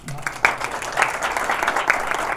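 Scattered audience applause at the close of a technical lecture: a modest, fairly steady patter of clapping that rises a little after the first half second and keeps an even level to the end.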